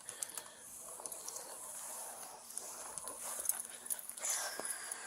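A blind and deaf dog whimpers and pants faintly in short, high, irregular whines, with scuffling movement nearby and a quiet outdoor background.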